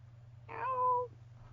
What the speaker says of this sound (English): Oh, is that a cat meowing?